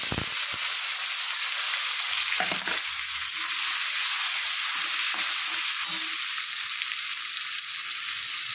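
Bay leaf, cumin and chopped onion fry in hot oil with a loud, continuous bright sizzle close up, briefly disturbed by a few stirring scrapes and clatters.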